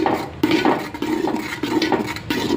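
Payesh, a rice pudding made with jaggery, being stirred in a pot, a spoon scraping and clinking against the metal in steady repeated strokes, close and fairly loud, with no talking.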